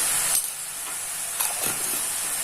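Tomato paste with salt and turmeric fries in a pan for an omelette gravy, giving a steady close hiss and sizzle with a couple of brief stirring scrapes, no voices.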